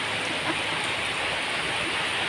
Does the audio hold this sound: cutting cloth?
no